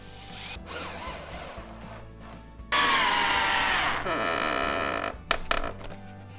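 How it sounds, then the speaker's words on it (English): A power drill whirs in a steady burst for a second or so, pre-drilling screw holes at an angle, surrounded by lighter clicks and handling noises, with a sharp knock near the end. "we have to pre-drill these screws manually to get them in the right angle"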